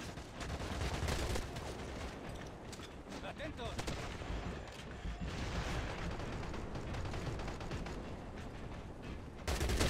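Dense, sustained gunfire from the shooter game CrossfireX, with continuous rapid bursts and loud volleys filling the whole stretch, dense and close throughout with a sharp loud burst near the end.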